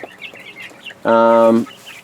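Isa Brown hens in a backyard flock, soft scattered clucks followed by one loud, drawn-out squawk close by lasting about half a second, with faint farmyard background around it.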